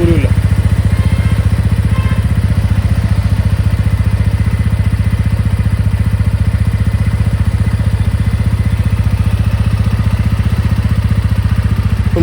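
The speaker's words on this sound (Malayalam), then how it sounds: "ഈ മോട്ടോർ സൈക്കിൾ ഒന്ന് സ്റ്റാർട്ട് ചെയ്ത് ആ എഞ്ചിൻ്റെ നോയ്സ് ഒന്ന് കേട്ട് നോക്കാം." A TVS Ronin 225 motorcycle engine idles just after starting, a loud, close, steady and even mechanical thrum with a fast regular pulse that holds unchanged the whole time.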